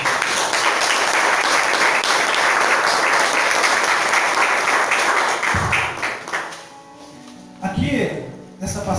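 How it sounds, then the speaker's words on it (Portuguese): A church congregation breaks into dense, steady applause that fills the space for about five seconds, then thins out and fades into scattered claps and quieter room sound. "Eu convido você a aplaudir a palavra de Deus."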